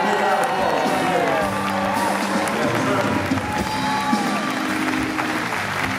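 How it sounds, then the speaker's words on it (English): Audience applause and cheering at a live 1970s-style music show, a steady crowd roar of clapping and whoops that carries through the whole stretch while a voice talks over it. "So I want you to give them a big round of applause."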